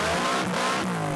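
Ford Fox Body Mustang fitted with an aluminum exhaust revs loudly and up close, a full-throated engine roar with harmonic exhaust tones that rise and dip through the short burst, with no talking.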